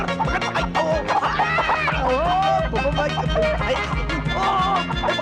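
A hen clucks and squawks while being chased and caught, close and loud amid excited shouting voices and a busy, dense film soundtrack.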